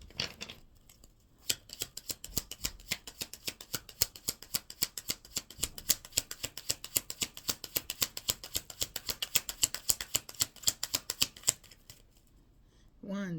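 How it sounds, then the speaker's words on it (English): Tarot cards being shuffled by hand, a rapid, steady run of crisp riffling clicks lasting about ten seconds, close and clear, with brief quiet moments before and after. "The cards are counting every time I shuffle."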